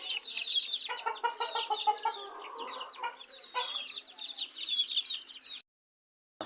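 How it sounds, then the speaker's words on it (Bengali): Lively month-old native (deshi) chicks on a poultry farm peep and cluck in a dense, continuous chorus of high chirps for several seconds, then fall abruptly silent. "অনেক তরতাজা দেশি মুরগির বাচ্চা"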